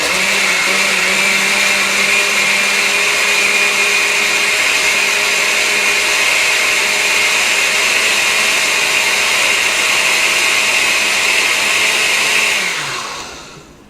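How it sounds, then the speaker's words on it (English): A blender grinds home-grown aloe vera with apple juice in a loud, steady whirring drone that runs for about twelve seconds before winding down and stopping. "now what I'm going to do next, I'm going to blend it. Oh no, I'm going to grind it first."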